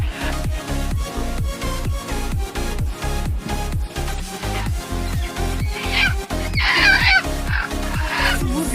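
Chickens cluck and squawk in short, busy bursts over a loud, steady, thumping musical beat, growing more agitated toward the end.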